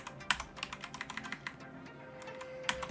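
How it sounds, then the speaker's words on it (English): Keys clatter on a computer keyboard, sometimes sticking, in a quick irregular run of close, crisp clicks with a few sharper strikes, in a quiet room while coding. "every once in a while my keyboard sticks"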